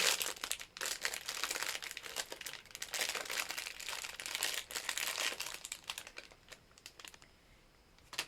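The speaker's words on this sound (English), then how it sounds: "Sorry for the rustling." Crafting materials for Halloween sublimation bookmarks with tassels rustle and crinkle in dense, close bursts, like paper or plastic being handled, fading quieter near the end.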